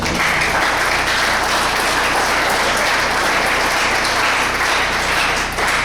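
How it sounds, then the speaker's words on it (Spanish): Congregation applauding during a Thursday evening church service, a loud, dense, continuous wash of many hands clapping steadily for about six seconds without pause. "Den un aplauso al Señor."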